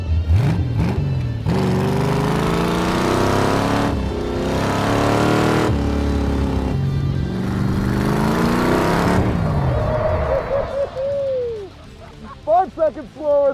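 A 1985 C4 Corvette-based go-kart revs hard around a track, engine climbing and dropping through several loud, drawn-out pulls before fading away, with brief squeals near the end.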